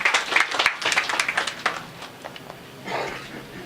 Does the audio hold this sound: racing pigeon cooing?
no